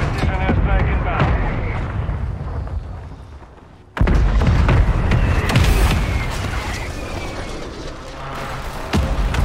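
Mortar strike and precision airstrike explosions in Call of Duty Modern Warfare 3 multiplayer on PC rumble as a loud, dense barrage, with a sharp cut into a fresh burst of booms and debris midway and a voice speaking through the chaos.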